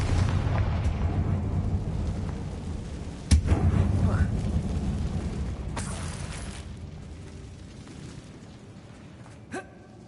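A fiery Confringo spell blast goes off in Hogwarts Legacy, a sharp loud boom followed by rumbling debris that fades, with a smaller crack near the end.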